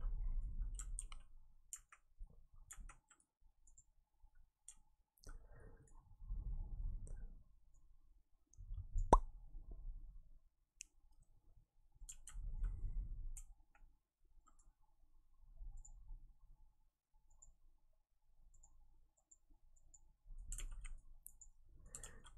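Sparse, quiet computer mouse clicks at irregular intervals while working in the Unreal Engine 4 editor, with low thumps and light desk noise between them and no talking.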